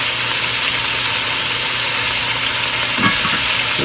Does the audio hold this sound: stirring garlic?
yes